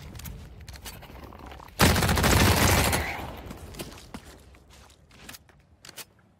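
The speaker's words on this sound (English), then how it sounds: "That sounds like gunshots." Gunfire in the video game The Cycle Frontier, a sudden loud burst of rapid shots lasting about a second, then trailing off into scattered distant cracks and faint clicks.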